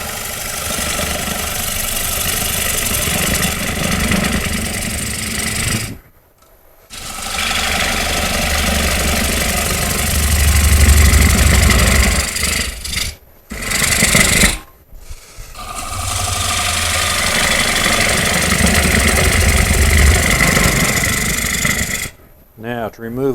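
A gouge taking roughing cuts on a wood lathe, a steady loud rasping drone of the spinning blank and tool broken by a few short pauses where the cut stops.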